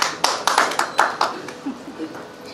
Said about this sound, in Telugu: విడతలు విడతలుగా చప్పట్లు వస్తున్నాయి.